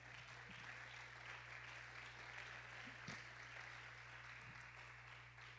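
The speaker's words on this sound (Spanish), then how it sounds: "Dale un fuerte aplauso a nuestro Dios." A church congregation applauds at a Spanish-language service, a steady, fairly faint wash of clapping with a constant low hum underneath.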